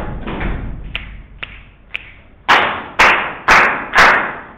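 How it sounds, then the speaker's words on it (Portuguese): A body-percussion ostinato for music education: a short vocal burst and soft taps, then three crisp finger snaps, then four loud, evenly spaced hand claps, all close and clear. "o grito, 2 batidas de pé, 3 estalos de dedo e 4 palmas"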